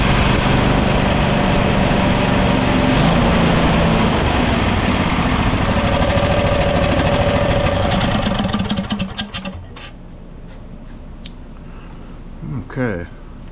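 A riding lawn mower engine runs fast and steady at high RPM, loud and close for about nine seconds, then drops away abruptly, leaving quieter background noise with a few clicks and a brief rising whine near the end.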